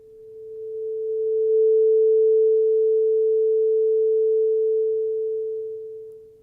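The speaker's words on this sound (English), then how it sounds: "There you go. There's our sine wave." A pure 440 Hz sine tone generated in Max software, fading in gradually, holding steady and loud, then fading out, alone with no other sounds.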